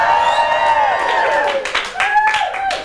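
A few scattered handclaps at a live comedy interview show, mixed with sustained whooping voices from the audience, fairly close and loud.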